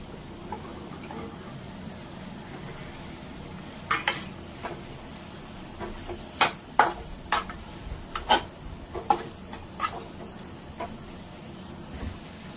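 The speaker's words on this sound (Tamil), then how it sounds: "இப்ப முருங்கைக்காய் போட்டு வதக்கலாம்." Drumstick pieces stirred into masala paste for a nethili fish curry, a steady low sizzle under a scattering of sharp utensil scrapes and clicks, clustered in the latter half, with no talk.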